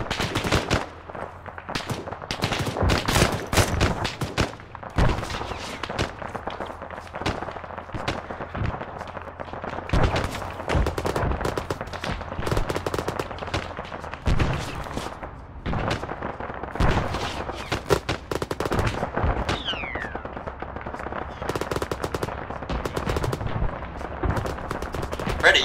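Dense, continuous gunfire from a military video game, Arma, with overlapping rifle and machine-gun bursts, some near and some distant, running throughout with brief voice fragments.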